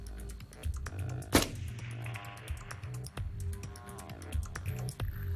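A single sharp long-range rifle shot cracks out near the start of a one-mile shooting session, followed by scattered clicks and faint handling noise against low background rumble.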